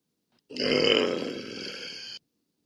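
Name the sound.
burp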